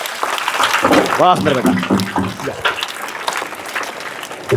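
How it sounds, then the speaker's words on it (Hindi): Schoolchildren clapping for a girl at a school event, brisk loud applause filling the clip while an adult voice speaks over it briefly, clapping thinning slightly toward the end. "ये बिटिया के लिए कस के ताली बजाइए"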